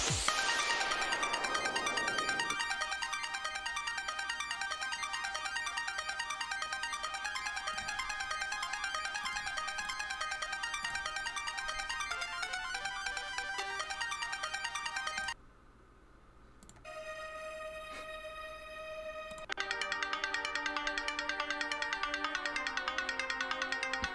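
Alternate X-Naut Fortress music from the Paper Mario: The Thousand-Year Door remake, a bright, busy electronic melody with sustained tones that drops to a quieter, sparser section midway before resuming at full level, with no talk.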